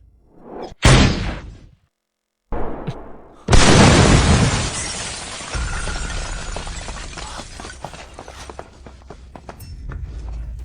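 A loud bomb blast at a warehouse erupts after brief whooshing bursts, followed by a long roaring rumble and scattered crackling debris that slowly fades.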